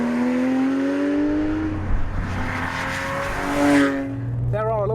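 A Porsche GT3 engine with manual gearbox revs hard, its pitch climbing steadily through the gears with a brief dip at each shift, loud and close.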